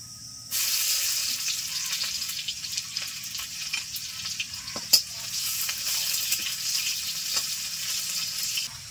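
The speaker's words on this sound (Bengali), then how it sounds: "এখন দিয়ে দিচ্ছি পেঁয়াজ কুচি।" Chopped medium onion hits hot oil after black cumin seeds, bursting into a loud, steady sizzle and fry with occasional sharp pops and stirring clinks, close and continuous without talk.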